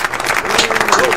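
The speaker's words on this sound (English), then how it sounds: "Let's give you a round of applause." A studio audience at a Tenerife talk show gives a brief burst of applause, dense clapping that sits under voices talking throughout.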